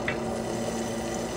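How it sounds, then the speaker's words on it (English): Quiet, steady sizzling of butter with noodles in a pan, a soft continuous frying hiss with a faint clink near the start. "Here it's sizzle, and we're gonna cook some butter in these noodles"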